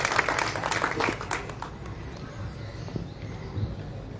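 A crowd claps in welcome for MLA Sunil Shelke at a journalists' event in Vadgaon, Maval. The applause is dense and fairly close at first and then thins into scattered claps.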